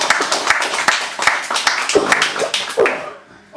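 A live show crowd applauding, with a dense burst of clapping and scattered sharper claps that thins out and fades toward the end.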